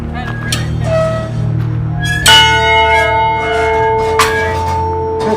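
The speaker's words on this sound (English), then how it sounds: "What was that bell used for? For announcing an escape was made." The old Yuma Territorial Prison bell in Arizona, once rung to announce escapes, struck once loudly up close with a long ringing decay, after softer tones and background voices.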